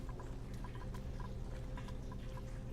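A drip system trickles and patters in the Oxygen Not Included video game, a steady low liquid wash with faint scattered drip ticks and a little game ambience.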